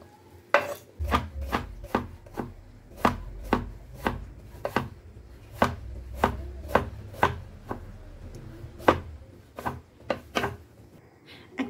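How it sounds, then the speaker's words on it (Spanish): Peeled plantains sliced diagonally with a knife on a cutting board, a steady series of sharp, distinct knocks roughly one per half second, close and clear, with no voices over them. "Y luego lo picamos en sifflet."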